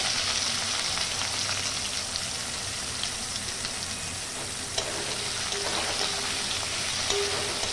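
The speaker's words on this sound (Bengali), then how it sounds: "পেঁয়াজ দেখতে ভালো করে একটু ভেজে নেবো" Continuous loud sizzling of onions frying in a hot pan, a steady crackling hiss with occasional sharper pops and no talking.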